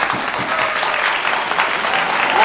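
Loud applause from a church congregation, dense and continuous clapping filling the whole short moment, close and strong, with faint crowd murmur beneath.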